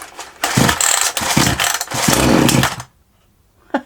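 A Handy chainsaw with its chain brake on and set to half choke is pulled over and sputters into a loud, rough engine burst for a few seconds, then cuts out to near silence before a short final sound.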